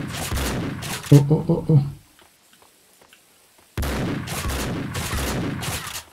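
Rapid bursts of gunfire in the video game Max Payne 2, loud and close, punctuated by a pause, while a man exclaims over the shooting.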